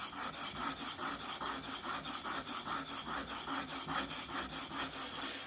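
A smoothing plane iron is worked up and down on a combination sharpening stone, giving a steady rhythmic rasp of about four strokes per second, close and alone with no talk.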